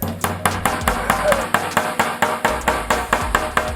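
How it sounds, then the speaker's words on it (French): A hammer taps repeatedly to drive a small part into a furniture panel during flat-pack assembly, a steady run of roughly a dozen close, fairly loud knocks with a voice speaking in the background. "à l'aide du marteau, insérez doucement P5 dans D1"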